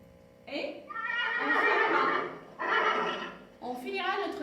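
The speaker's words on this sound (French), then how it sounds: "on finira notre classe par le son du cheval, de la jument, et c'est dans une écurie" A mare neighs in a stable, a loud close whinny followed by two more shorter calls, with a voice speaking alongside.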